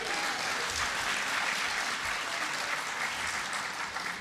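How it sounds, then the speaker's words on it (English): A conference audience at a tribal nations gathering breaks into sustained, dense applause, steady and loud throughout with no clear pauses. "Give them a round of applause."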